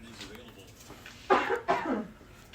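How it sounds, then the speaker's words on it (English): A person in a garage-like space coughs twice, close and sharp, each cough a short harsh burst; quiet background before it with a faint voice. "Keep coughing."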